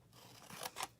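Two quick crisp snips of scissors cutting small pie-shaped notches into a paper craft box, close and quiet with no talk.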